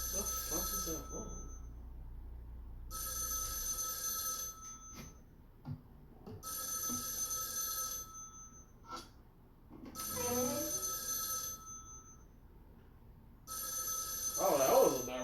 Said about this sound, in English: Phone rings loudly.